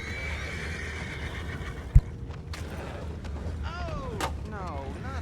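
A horse whinnies in a Red Dead Redemption 2 camp scene at night, two descending neighs near the end over a steady ambient bed, with a sharp thump early and people talking in the background.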